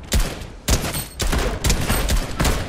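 Rapid gunfire in the video game Fortnite, several loud bursts of shots in quick succession with short gaps between them and no talking.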